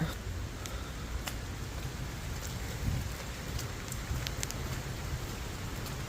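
Steady rain falls around an outdoor hotel pool at a resort in Orlando, a dense even hiss with scattered sharper drop taps close by, continuing without pause.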